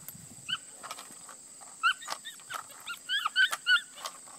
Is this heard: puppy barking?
yes